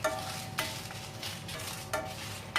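Fish masala roasting in a pan for fish pollichathu, with a steady sizzle and repeated scraping strokes of a spoon stirring the paste every half second or so, close by and with no talk.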